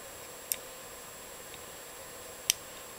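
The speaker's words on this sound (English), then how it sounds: "so you can hear the pins click into place" Two sharp, tiny clicks sound seconds apart as pins set while an American A400K padlock is picked under heavy tension, close and crisp over faint steady hiss.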